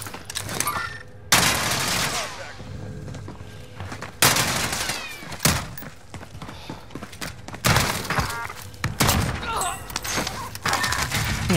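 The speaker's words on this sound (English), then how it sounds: "He got shot at." Gunfire in the video game Call of Duty: Modern Warfare, bursts of shots and heavy impacts in clusters separated by brief lulls, with people talking over the action.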